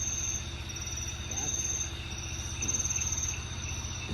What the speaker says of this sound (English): No idea if they were cicadas or whatever.